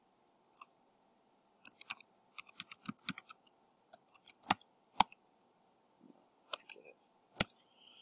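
Irregular bursts of crisp, close clicks from a computer keyboard as a date is typed, with short pauses between the groups of keystrokes.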